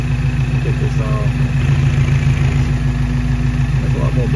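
A 1997 Toyota Tacoma's freshly installed 3RZ engine runs at a steady idle with heavy blow-by, a constant low throbbing hum close by, with faint voices briefly audible over it.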